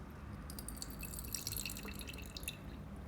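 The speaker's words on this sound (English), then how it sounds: "I'm gonna pour mine into my flask" Vinegar trickles and drips into a flask in a steady, faint splashing patter, close up and quiet, with no voices.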